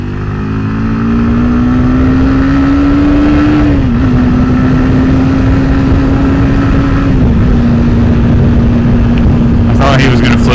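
A motorcycle cruises along an interstate with a loud, steady engine note that climbs slowly, dips briefly at two gear changes, and carries on with constant wind rush throughout.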